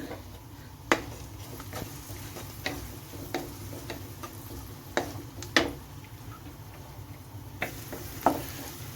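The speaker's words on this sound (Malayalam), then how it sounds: "നമുക്ക് ഇഞ്ചിയും വെളുത്തുള്ളിയും കൂടെ എണ്ണയിലേക്ക് ചേർത്ത് കൊടുക്കാം ഒന്ന് ഇളക്കിയിട്ട്" Ginger and garlic fry in hot oil with a low, steady sizzle, broken by scattered sharp ticks and scrapes as a spoon stirs the pan; fairly quiet and close, with no talking.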